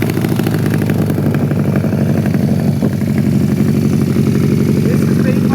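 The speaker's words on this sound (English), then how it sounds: "The CD200s sound great and are surprisingly nippy" Honda CD200 motorcycle engine running, a steady close putter with a busy low rumble that stays even throughout, with a voice speaking over it.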